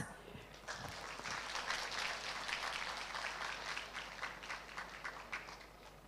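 A conference audience gives scattered, moderate applause, its claps distinct and uneven, quietly sustained over several seconds with some faint murmuring beneath.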